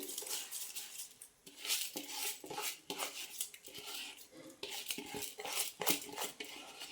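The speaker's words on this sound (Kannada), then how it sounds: "ಅಕ್ಕಿನ ಸೇರಿಸಿ ಚೆನ್ನಾಗಿ ಒಂದು ಮಿಕ್ಸ್ ಕೊಡಿ." Washed rice stirred into coconut milk in a metal pot, with a spoon scraping and clinking against the sides in a steady, irregular rhythm. The stirring is close and fairly quiet, with no voices over it.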